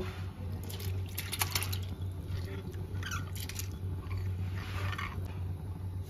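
Washed red lentils going into a pot of hot water give a moderate wet splash and scattered drips over a steady low hum, with no voices.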